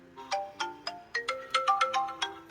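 A smartphone ringtone set off by a sports smartwatch's find-phone function, a bright melodic sequence of short plucked notes repeating in quick rhythm, clear and close with no voices.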